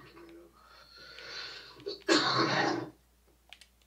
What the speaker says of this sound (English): That wasn't a sneeze, that's a cough.